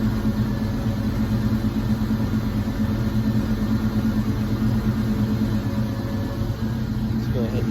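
A 1986 Ford Mustang SSP engine with fresh spark plugs and wires idles steadily around 1,000 RPM, a close, even low rumble that holds without revving.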